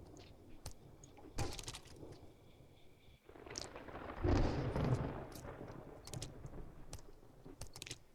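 Thunderstorm in the survival game 7 Days to Die: low rumbling thunder with a few sharp cracks, swelling into a loud roll midway, then fading into a steady storm bed, with no talking.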